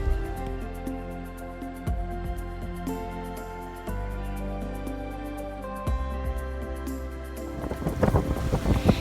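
Sailboat beating into the wind at night on rough seas en route to Haiti, with a steady roar of wind and water throughout and a low droning hum, rising into louder splashing and buffeting near the end.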